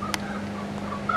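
Hens on a herbal egg farm give a short burst of poultry calls over a steady low hum, followed by fainter scattered clucks with no talking.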